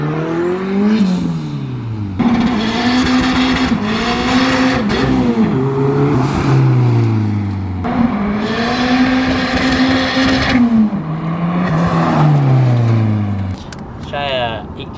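A VW Beetle race car powered by a Honda SW20 engine drives hard on a track. The engine roars loud and close throughout, its pitch climbing and dropping through several gear changes.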